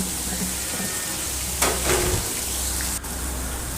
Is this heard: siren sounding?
no